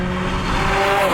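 A Ferrari F355 GTS engine roars loudly and steadily with a sustained tonal exhaust note from a non-stock exhaust, close by, without pause.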